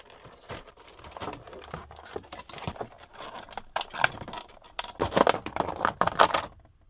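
A Teenage Mutant Ninja Turtles action figure being freed from its packaging, with irregular close crinkling, tearing and plastic clicks that grow busier and louder toward the end.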